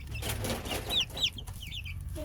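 Meat chickens in a small pen, soft clucks and a few sharper high calls over a low background murmur, fairly close.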